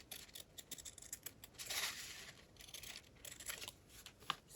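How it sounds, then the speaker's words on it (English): Scissors snip through thick fabric in a series of quick, close crisp cuts, a clear burst near the middle, all fairly quiet with no talking. "This fabric is thick. I might have to just cut it."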